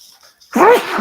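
One sharp, close sneeze bursting out after a brief quiet lead-in, loud and breathy.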